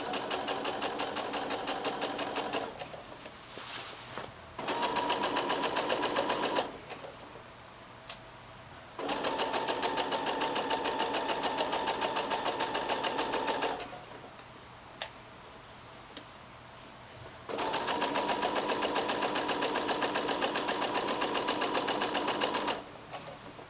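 A Brother Innovus sewing machine stitches in three steady bursts of fast, even mechanical ticking, with short quiet pauses between runs, close and clear with no talking.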